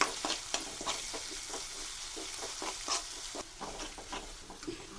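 Curry leaves fry in hot oil as a snack filling for homemade kozhiyada is cooked, giving a steady crackling sizzle broken by repeated stirring scrapes close by, with no talking.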